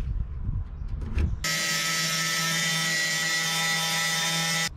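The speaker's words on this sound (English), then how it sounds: "a cutoff wheel does pretty good about grabbing chunks of that undercoating and flinging it off there" A cutoff wheel grinds undercoating off the body of a 1961 Parkwood wagon, starting abruptly after some faint handling noise and then holding a loud, steady high whine close by for several seconds.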